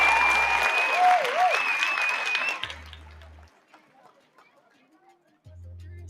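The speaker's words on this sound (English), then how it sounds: "I give you a round of applause." A short burst of clapping from a small group rises over background noise and tapers off within a few seconds, followed by near quiet with faint low hum.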